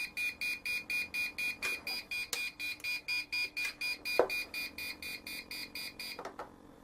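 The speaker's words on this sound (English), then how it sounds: "you can hear the alarm going off in here" A battery saver alarm on an RC transmitter beeps in a steady repeating pulse, a thin high electronic tone, moderately close, with a few clicks and handling knocks in between.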